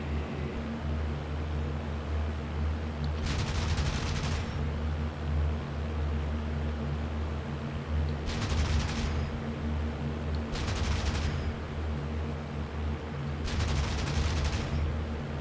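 P-38 fighter guns fire in a flight video game, four loud, sharp bursts of rapid automatic fire, each about a second long, over a steady droning engine roar.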